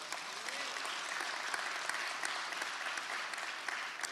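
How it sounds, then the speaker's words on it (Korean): A church congregation claps continuously in a large sanctuary during a Sunday service, dense and even applause sustained throughout at moderate distance. "우리 하나님께 영광의 박수 한번 올려드릴까요?"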